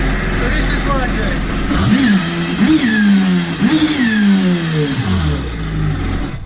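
A Kawasaki Ultra 310 jet ski engine, run on land after flushing, is revved up to around 5,000–6,000 rpm in repeated rising and falling bursts over a low idle, loud and close.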